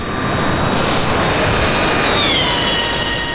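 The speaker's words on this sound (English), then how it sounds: "It absolutely makes an excellent high performance electric noise." A Damon HyperSport electric motorcycle passing at speed, a loud broadband rush with a faint high whine that swells slightly toward the end of the short pass, heard without talk.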